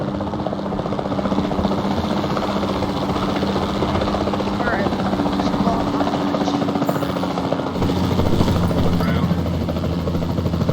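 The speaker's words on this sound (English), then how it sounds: "Then the sensible thing is to take a capture team helicopter." Capture team helicopter in the video game Jurassic World Evolution 2, a steady loud rotor thrum and engine drone that holds without a break, with faint game effects layered over it.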